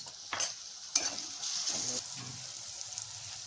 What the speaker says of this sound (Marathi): हे बघा कांदा आणि मिरची लसूण चांगला परतून घेतलाय